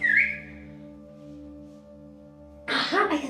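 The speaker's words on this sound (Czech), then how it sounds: "Tak teď si na nás zapískala." A short rising whistle from a person opens the moment, followed by a low hum and then a burst of voices talking.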